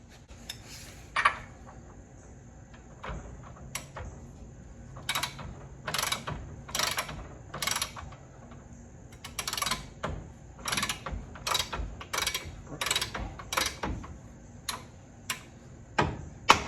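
Ratchet socket wrench tightening a nut on a 1990 Ford Bronco front end, bursts of rapid close clicking repeated in short runs with pauses between, no talk.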